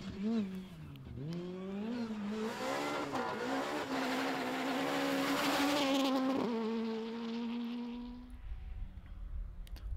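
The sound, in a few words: Opel Adam rally car racing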